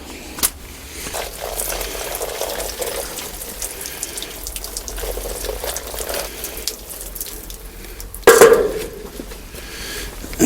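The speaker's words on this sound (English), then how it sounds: "I'm just going to give these a little bit of a water." Water pours steadily onto seedling pots in a sowing area, making a soft continuous trickle and splash, with a brief louder burst of water near the end.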